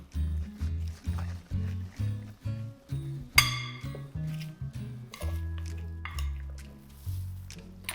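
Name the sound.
mixing sauce into mixture in a dish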